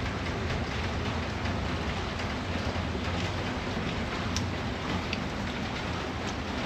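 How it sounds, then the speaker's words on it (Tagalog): Rain falls steadily in Taiwan as it begins to ease, a dense, even hiss of drops on surfaces that stays constant throughout, with no voices. "Medyo humihina na yung ulan."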